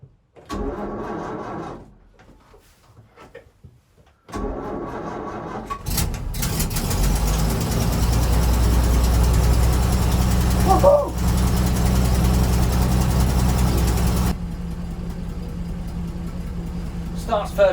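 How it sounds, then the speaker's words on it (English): A vintage fire engine over 60 years old cranks over, cuts out briefly, then catches and runs at fairly high revs, a loud sustained mechanical roar that steps down slightly near the end. "crank the engine on, don't stick it in gear, and then just keep the revs fairly high"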